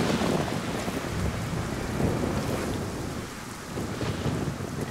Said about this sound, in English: I do love it when it freaking rains and storms